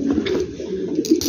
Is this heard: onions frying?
no